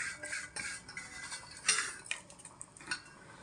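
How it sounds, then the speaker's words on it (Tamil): Date payasam with jaggery being stirred in a pot, a quick series of light metallic scrapes and clinks from a spoon against the vessel, close and fairly quiet, with no voices. "நல்லா எரி போட்டு நல்லா கிண்டணும் பாருங்கள்."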